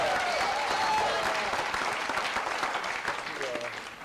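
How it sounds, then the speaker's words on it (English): Clapping from a civic gathering audience honoring a local Democratic club member, a moderate, continuous patter that starts strong and thins slightly toward the end, with some murmured voices underneath. "let's give a round of applause to Sheila Mickelson with the Westchester Playa Democratic Club"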